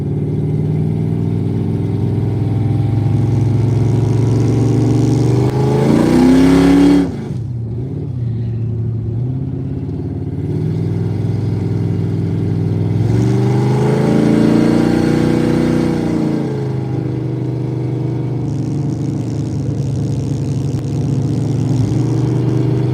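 Loud, continuous car engine drone with road noise on a highway, the pitch rising and falling as the car cruises at speed; a brief dip midway.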